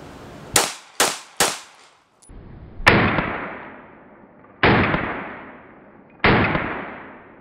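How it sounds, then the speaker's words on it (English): A handgun fires six rounds at close range: three quick sharp cracks, then three louder, spaced shots, each ringing out with a long echoing decay, and no talk. "firing a few rounds and looking at the recoil"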